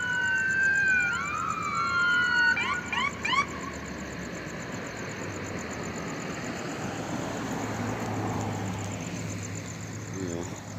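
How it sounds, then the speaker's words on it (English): An approaching ambulance on a street during a police traffic stop gives a few short siren whoops and yelps at moderate distance, then falls silent, leaving a steady engine idle and a continuous high hum. "Got another ambulance approaching, I think, here from my right."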